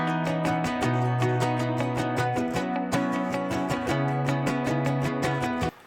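Several layered guitar parts from a song play together, with rhythmic plucked notes pulsing over sustained chord tones in a dense, steady mix that stops abruptly at the end, with no talking.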